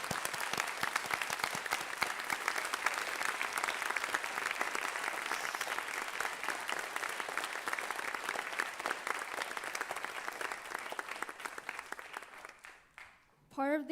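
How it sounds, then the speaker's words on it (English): Applause at a high school valedictory ceremony for the graduating class of 2020, a sustained even patter of many hands clapping at moderate distance, fading out near the end before a brief voice. "Let's give a big round of applause to ourselves"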